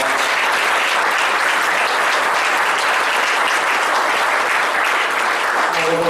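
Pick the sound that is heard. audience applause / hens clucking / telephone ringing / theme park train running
audience applause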